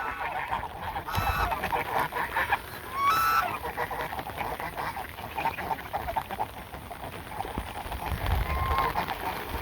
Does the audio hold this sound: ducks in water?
yes